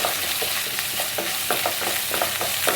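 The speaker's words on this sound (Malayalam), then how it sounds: "കറിവേപ്പില വറ്റ കൊച്ചുള്ളി വറ്റൽമുളക് കൊച്ചുള്ളി എല്ലാം കൂടി ഇട്ടിട്ട് ഒന്ന് കരിച്ചെടുക്കണ്ട ഒന്ന് ജസ്റ്റ് ഒന്ന് വാട്ടി മൂപ്പിച്ചെടുക്കുക" Curry leaves, shallots and dried red chillies sauté in a hot pan, crackling and sizzling continuously up close while being stirred with repeated scraping strokes.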